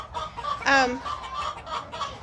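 Chickens clucking nearby in a chicken house, with one louder, drawn-out squawk in the middle among softer scattered clucks.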